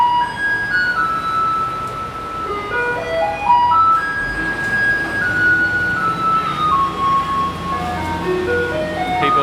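A Taipei garbage truck plays loud melodic music to announce its arrival on a night street, the tune's notes ringing out steadily over road traffic noise throughout, with no talking.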